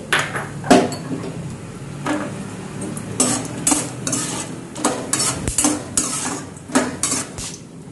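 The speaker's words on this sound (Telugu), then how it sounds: "దీన్ని ఒక 2 మినిట్స్ పాటు ఆయిల్లోనే వేయించుకోవాలి పల్లీలని" Peanuts and cashews frying in oil in a pan, with a spoon scraping and stirring and repeated metallic clanks over a soft background sizzle, close and fairly loud.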